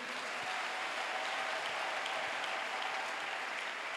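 Congregation applauding Jesus at a church service led by Pastor Abel Nkomba, a steady, dense wash of clapping from many hands that holds evenly throughout without any talking.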